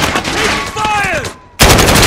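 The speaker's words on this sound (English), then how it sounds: "I'm taking fire!" Gunfire in Call of Duty: Modern Warfare: a loud, dense stretch of shooting cuts out into a brief near-silence, then slams back in with a sharp burst.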